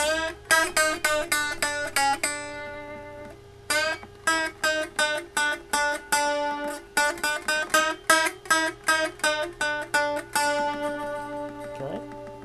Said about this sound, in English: you're doing multiple ghost bends and releases all at once